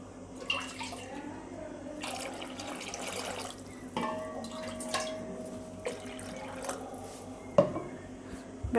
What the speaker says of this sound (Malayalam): അപ്പോൾ ഇതിലേക്ക് ഞാൻ ആവശ്യമായ വെള്ളം ഒഴിക്കുകയാണ്.